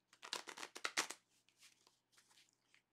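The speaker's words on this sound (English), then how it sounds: "Shuffling some cards" Playing cards riffle-shuffled in a few quick, crisp bursts, followed by softer fluttering card sounds, close up with no talking.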